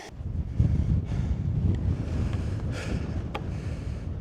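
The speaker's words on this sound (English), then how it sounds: "So windy up here." Strong wind buffets the microphone in heavy, rumbling gusts on a mountain in the Brecon Beacons, continuing without pause, with no voices.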